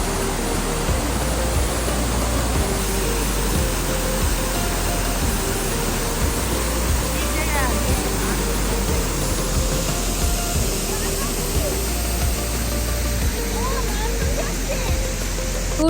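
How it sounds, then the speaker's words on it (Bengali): Waterfall pouring from two sides at Cherrapunji, Meghalaya, a loud constant rushing roar of falling water, close and steady, with people talking faintly over it. "এখানে দুই সাইড থেকে ঝর্ণার পানি পড়তেছে।"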